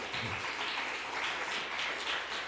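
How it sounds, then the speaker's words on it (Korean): A church congregation at a Korean youth Sunday service gives steady, moderately faint applause to welcome returning short-term missionaries, a continuous wash of many hands clapping with no talk over it. "환영 박수 쳐주시기 바랍니다"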